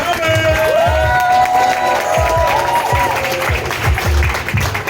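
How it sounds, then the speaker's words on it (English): At the Laugh House comedy club, an audience claps and cheers for the next comedian taking the stage. The applause is dense and sustained, mixed with crowd voices and loud walk-on music with a thumping beat. "I want you guys to start clapping for the next comedian coming to the stage"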